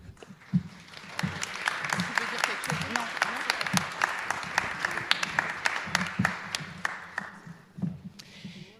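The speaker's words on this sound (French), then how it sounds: "Vous pouvez l'applaudir." Audience at a conference-debate applauding, a steady patter of many hands clapping with distinct individual claps standing out, fairly faint and lasting several seconds.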